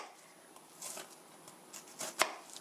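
A knife scores shallow cuts into a halved tomato for tomato sauce. A few soft, quiet slicing strokes end in one sharper tap on the board, and there is no talk.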